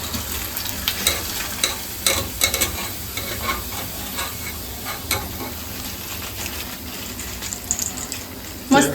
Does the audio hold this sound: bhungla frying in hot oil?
yes